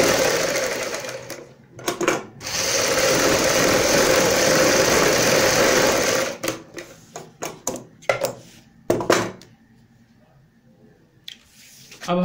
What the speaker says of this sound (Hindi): यहाँ पे हम एक पैर चौड़ाई वाली सिलाई लगाएंगे जो नीचे की साइड है हमारी।